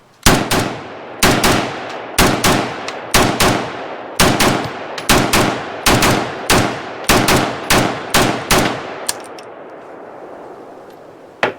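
Arsenal SAM5 rifle firing Arms Corps ammunition, a string of sharp loud shots in irregular pairs and singles, each ringing briefly, about a dozen in all before the firing stops.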